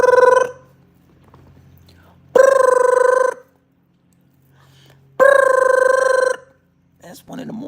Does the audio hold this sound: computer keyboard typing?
no